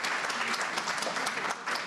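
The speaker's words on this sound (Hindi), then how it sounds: "एक बार जोरदार तालियों के साथ सरिता जी का हमारे स्वागत करें" An audience claps steadily to welcome a new woman member at a Hindi committee gathering. The dense, even applause runs throughout, with no voices over it.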